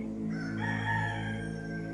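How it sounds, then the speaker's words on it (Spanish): A rooster crows once in a long drawn-out call, fairly close and clear, with a faint steady background hum. "Mientras el gallo cantaba y cantaba,"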